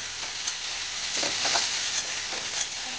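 Chicken pieces fry and are stirred in a pan for a stuffed omelet, giving a soft, steady sizzle with a few scraping stir strokes. No talking.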